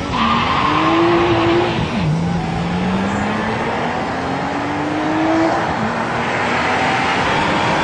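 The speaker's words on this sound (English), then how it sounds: "First, the Porsche sprints into the lead." An Alika electric car races a Porsche from a standing start, a loud continuous drive with a rising whine that climbs steadily in pitch, resets once, then climbs again over steady road and tire noise.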